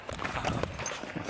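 Horse hooves clip-clop in a quick, uneven run of soft thuds at a horse barn, fairly close and heard alone.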